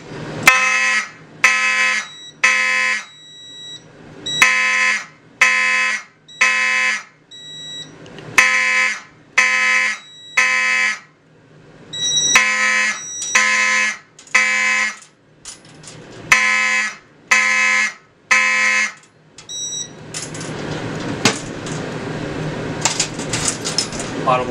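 A fire alarm system under test, with Exceeder and WSD24 alarm devices sounding: loud, repeating electronic tone bursts in a steady temporal pattern for about twenty seconds, then the tones stop and a noisy hiss remains.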